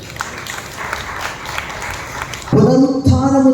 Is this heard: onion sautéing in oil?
no